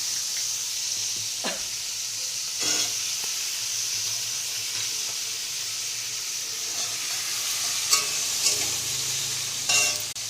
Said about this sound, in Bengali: তো পুরো সবজিটা ঢেলে দিই, আর মোটামুটি হয়ে গেলে তোমাদেরকে দেখাবো।